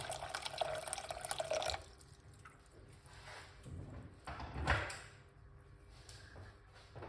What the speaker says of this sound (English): add some hot water in the pot like this.